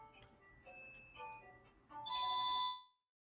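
A phone rings with bright electronic chiming tones that step and climb, building to a loud sustained tone before cutting off abruptly, heard alone and fairly close.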